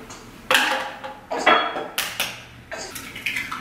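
Eggs are stirred in a bowl for cake batter, with a spoon clinking against the bowl in a run of about six uneven, bright taps up close.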